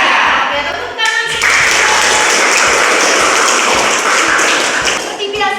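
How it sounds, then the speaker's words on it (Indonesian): Grade 11 social-studies students in a classroom break into loud, close applause that continues as a dense clatter of hands, with voices over the clapping. "Oke, tepuk tangan."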